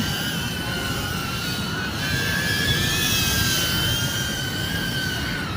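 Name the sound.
drone flying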